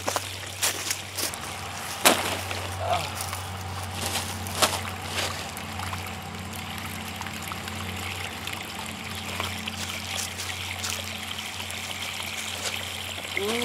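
Water trickling and splashing while a vegetable garden of tomato and pepper plants is watered, a continuous soft running flow with a few louder splashes and knocks, fairly quiet throughout.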